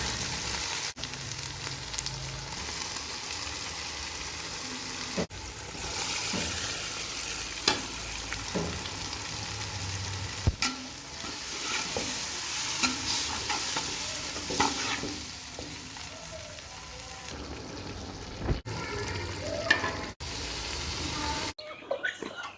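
Prawns cooking with mixed vegetables in a pan, a village-style dish, with a continuous sizzle and repeated stirring scrapes and clinks, steady and close throughout.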